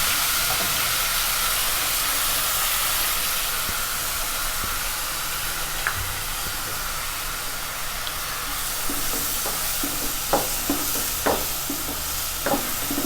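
Finely chopped onions frying in ghee and oil give a steady, loud hiss and sizzle, with scattered sharp crackles and spoon scrapes growing more frequent toward the end.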